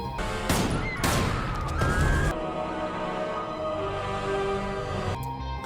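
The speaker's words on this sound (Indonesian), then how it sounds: "Mengambil kesempatan itu, ia segera menembak Ferdinand dan istrinya" Gunshots from the film The King's Man: several loud, close blasts crack in quick succession early on, followed by a tense sustained ringing tone and a final sharp hit.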